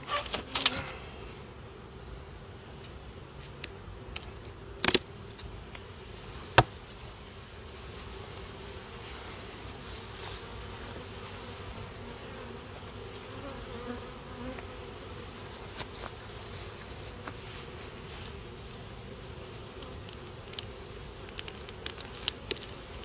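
Honeybees hum steadily around an open nuc hive during an inspection, a continuous close buzz broken by a few sharp clicks and knocks from handling the hive.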